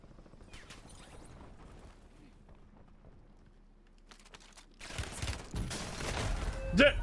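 Gunfire in the video game Warzone: quiet scattered shots and game sounds at first, then a sudden loud burst of rapid fire and booms that builds toward the end.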